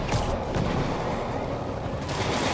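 Dense gunfire in the Spider-Man Remastered video game, a continuous loud crackle of overlapping shots and booms that fills the whole moment without a break.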